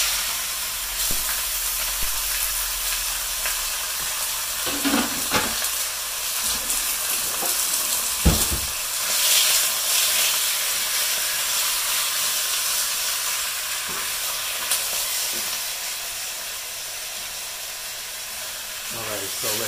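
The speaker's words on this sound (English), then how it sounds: "But that chicken is going to sear." Chicken searing in a hot pan while cooking chicken korma, a steady hiss and sizzle running throughout, with a few clanks and occasional voices in the background.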